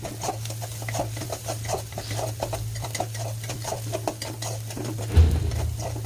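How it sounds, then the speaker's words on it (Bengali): Onion, chilli, ginger and garlic stirred in a pot for chicken khichuri: a steady soft scraping and pattering of the spoon, close and continuous, over a low constant hum. "একটু আদা রসুন দিয়ে হচ্ছে একটু নেড়ে নিচ্ছি"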